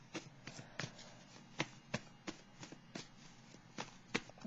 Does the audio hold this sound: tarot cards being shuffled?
yes